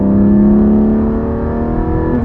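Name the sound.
Porsche Cayman GT4 4-liter flat-six engine revving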